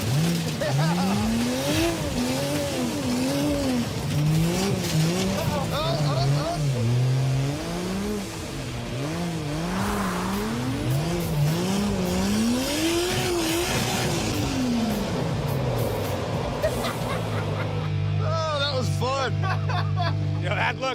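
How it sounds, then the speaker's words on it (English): A 1968 Dodge Charger with a 440ci V-8 revs hard while driving, loud and close, its pitch climbing and falling through repeated runs up to the rev limiter, with brief tire squeal and excited voices talking over the engine. "Oh my God, I love this motor. I love this rev limiter."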